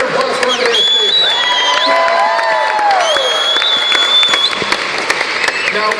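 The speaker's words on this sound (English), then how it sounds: "Everybody, next round of applause for Andreas Deja." An audience at a Disneyland discussion of Pinocchio bursts into sustained, dense applause with scattered whoops, loud and close, while music plays over the clapping.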